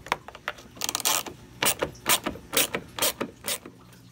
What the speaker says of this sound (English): Next we have these two bolts to remove, and it's just an 8mm socket.